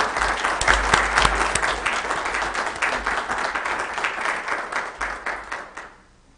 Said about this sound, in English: I'd like to get a round of applause to Jim and his team for the job they did